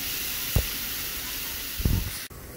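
Water hitting a hot griddle of hot dogs gives a continuous loud hiss of steam, with two sharp splashing sizzle bursts and a brief dropout near the end.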